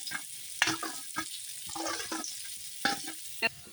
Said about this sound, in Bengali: আলুটা একদম লাল লাল করে ভালো করে ভেজে নেব